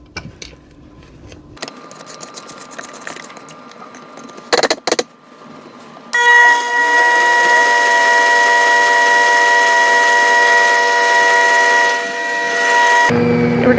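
An electric stand mixer beats chocolate cake batter in a bowl, a steady whirring hum that starts abruptly after quieter clinks and scraping, runs loud and even for several seconds, then cuts off.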